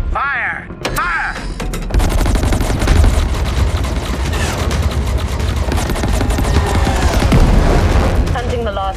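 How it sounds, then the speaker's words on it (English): Sci-fi spaceship weapons from the video game Chorus fire in a dense, continuous barrage of rapid shots and booms, loud and sustained throughout, with a brief burst near the start before the full volley. "All stations, pick your targets in a close defensive grid. Fire! Fire! Fire!"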